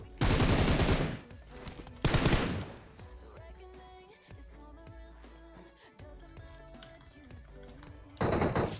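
Automatic rifle fire in PUBG Mobile: two long, loud bursts of rapid shots, then a quieter stretch of game music and effects, and a final burst at the end.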